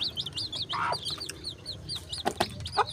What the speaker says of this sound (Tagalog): This is native chicken and her chicks.